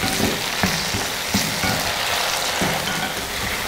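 Tomatoes sauté in a pan with softened onions for a kulambu, a steady dense sizzle running throughout with a few brief louder crackles and stirring bumps, close and without talk.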